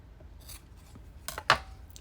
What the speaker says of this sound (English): And we can actually cut these at an angle.